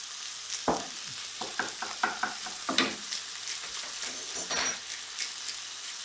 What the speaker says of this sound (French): on va faire revenir l'ensemble pendant quelques minutes avant de rajouter les champignons